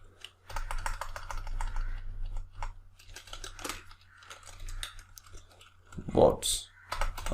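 Close computer-keyboard typing in irregular bursts of quick clicks, with a faint steady hum underneath and a louder crunchy clatter near the end.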